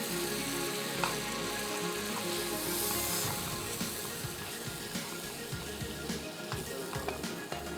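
Flour roasting over very low heat in a pan with cloves and onion for a roux, a continuous dense sizzle with faint stirring scrapes and occasional ticks throughout.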